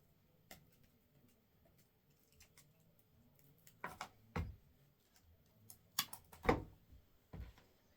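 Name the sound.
cutting table centrepiece material with scissors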